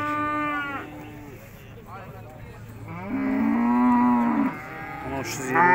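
Cattle at a livestock market in Urzhar moo loudly and close by, with several long drawn-out calls, one rising and sustained in the middle, over a steady murmur of the crowd.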